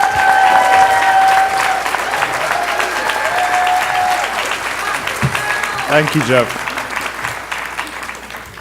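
Audience applause at a media conference plenary session, a broad, steady clapping that fades gradually while a voice speaks over it toward the end.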